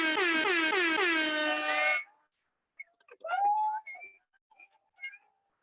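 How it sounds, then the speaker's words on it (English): A loud Jamaican-style air horn blares a rapid, warbling series of falling blasts for two seconds, then cuts off, leaving faint scattered voices. "Love the Jamaican air horns."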